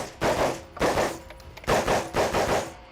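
Rapid 3-gun practice at a shooting range, moving between pistol, rifle and shotgun: four loud clusters of quick shots with short pauses between them, fairly close.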